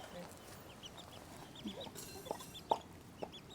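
Chickens, including a red chicken, cluck faintly in the background of a quiet outdoor yard, with a few sharper clucks standing out toward the end.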